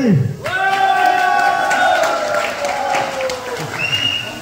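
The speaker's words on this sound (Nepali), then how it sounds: "एकचोटि फेरि जोडा ताली" Applause from a crowd at a public programme in Nepal, a steady wash of clapping mixed with a loud sustained horn- or whistle-like tone, with faint voices in the background.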